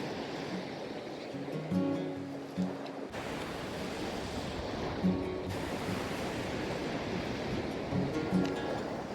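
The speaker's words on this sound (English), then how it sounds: "this is an Australian beach" Surf rolls steadily onto a litter-strewn Australian beach at Cape Arnhem, a continuous broad wash of breaking waves with occasional louder crests.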